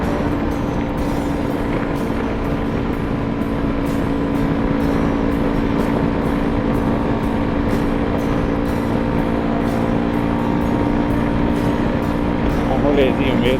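A Yamaha Ténéré 250 motorcycle with an aftermarket exhaust drones steadily and loudly at highway speed, with wind rush throughout and no break in the engine note.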